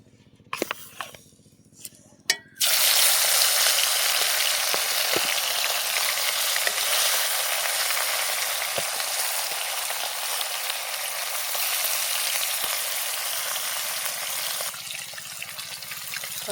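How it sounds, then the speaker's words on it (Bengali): Rupchanda fish drops into hot oil after a few clinks and knocks, and a loud, dense sizzle then bursts out and holds steady for the rest of the time, close and without voices. "সব মাছগুলো লাল লাল করে ভেজে নেব"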